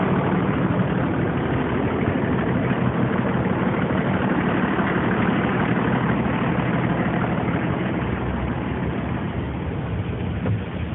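A large 45-passenger vehicle's engine idles steadily, a loud, continuous low rumble with constant vibration that holds evenly from start to finish, with no voices over it.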